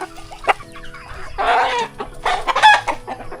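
Chickens, including a rooster, cluck and squawk in bursts near at hand, with a crow rising partway through amid farmyard noise and no talk.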